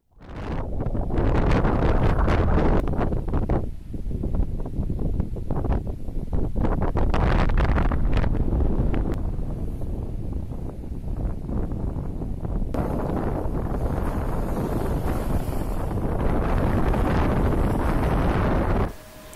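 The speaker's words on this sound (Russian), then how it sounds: "И какой ужасный шум ветра." Strong, gusting wind buffets the microphone outdoors with a loud, continuous roar and rumble. It fills the whole stretch with no break.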